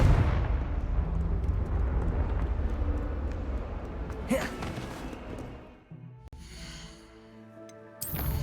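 Confringo explosive curse in Hogwarts Legacy, a loud booming blast that opens the moment and rumbles on as a dense roar, fading down, followed later by a couple of sharper bursts.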